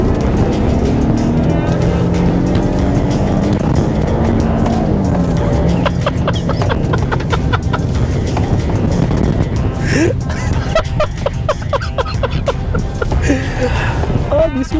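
A Chevrolet Colorado Z71 pickup truck drives fast off-road in the Texas countryside near Austin: loud, continuous engine and tire roar over rough ground, with rattles and bumps, gusting wind and a few passing surges.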